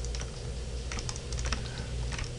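Close, sharp clicks and taps from a computer keyboard and mouse in quick succession during 3D modeling work, over a steady low hum.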